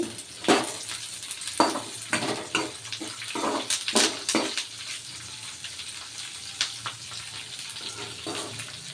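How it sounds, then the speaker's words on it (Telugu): Cumin seeds frying in a pan for jeera rice: a continuous close sizzle broken by irregular bursts of louder crackle and spatula scraping, with no one speaking. "స్పూన్ జీరా ఇప్పుడు బాగా వేయింపుకోవాలి"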